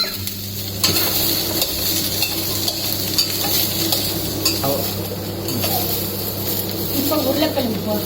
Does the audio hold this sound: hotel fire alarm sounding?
no